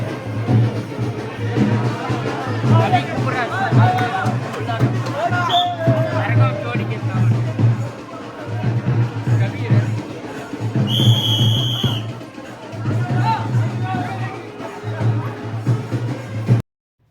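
Whistle blasts ring out over a dense, noisy crowd at the Ponniamman temple festival in Vaniyambadi, signalling bearers; one sharp whistle near the middle stands out above steady hubbub and a low drone.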